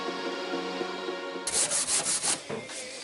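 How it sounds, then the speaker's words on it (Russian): A sanding block with worn sandpaper rubs across a car body panel on a Subaru in about six quick, rhythmic scratchy strokes, close and fairly loud, after a brief low hum. "Она наждачка точит и точит."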